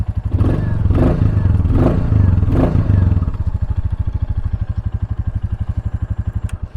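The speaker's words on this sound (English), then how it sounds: "I'll give it a couple small revs for you." A Royal Enfield Classic 350 motorcycle engine is revved three quick times, each rising and falling, then settles into a steady, close idle with a rhythmic putter.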